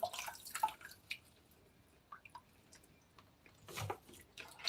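Carrots are rinsed under a faint trickle of water, with soft drips and splashes that come and go, quiet and close.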